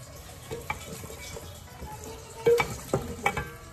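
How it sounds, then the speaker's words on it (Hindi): Mutton with salt sautés in a pot, giving a soft sizzle with scattered stirring scrapes and a few sharp knocks against the pot, close by with no talking. "अब मैं थोड़ा सा इसको सौते करूंगा और साथ ही मैं इसमें नमक ऐड कर रहा हूँ"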